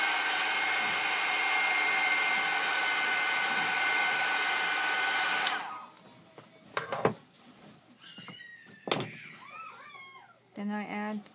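A hair dryer blows with a loud, steady whir for several seconds, then shuts off, leaving quieter handling noises and a cat's meows.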